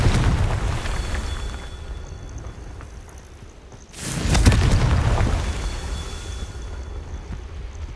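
A Confringo fire spell detonates in Hogwarts Legacy, a single loud booming blast midway that follows a steady rumbling hum, with a roaring swell of debris fading afterward.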